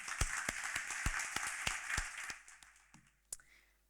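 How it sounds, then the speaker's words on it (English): Applause from an audience at an International Women's Day event swells with sharp individual claps, then thins out and fades to a few scattered claps. "Can we have a big round of applause for Mark?"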